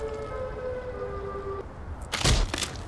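Siren Head creature's siren wail: a steady tonal wail holds for a second and a half, then fades, followed by a few loud crackling bursts over a low rumbling background.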